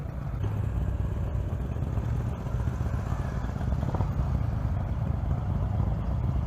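A Moto Guzzi motorcycle engine runs steadily nearby, a low continuous rumble with a faint rattly clatter and no voices over it.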